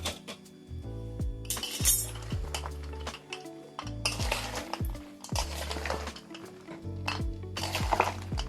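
A spoon scrapes and clinks against a metal pan, stirring fried nimki through thick jaggery syrup in a steady, close rhythm with a light sizzle beneath, and no voices.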